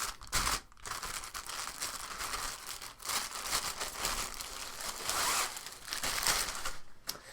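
Bubble wrap packaging is crinkled and handled while unboxing a Blair Digital Chanter bagpipe gear, soft continuous rustling and crackling close by, fairly quiet with no speech.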